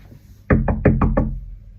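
Five quick, sharp knocks on a hard surface, loud and close, following a faint background hum.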